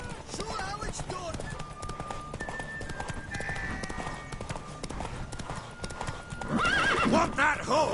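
Hooves clip-clop rapidly in a galloping rhythm under a busy game soundscape in The Witcher 3, ending with a loud horse whinny near the close.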